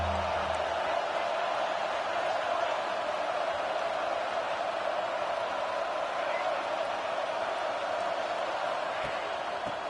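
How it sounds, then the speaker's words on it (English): Home stadium crowd at a college football game against LSU, a dense, continuous roar of cheering that stays loud and steady under a commentator's voice. "Man, this crowd really affecting the football game."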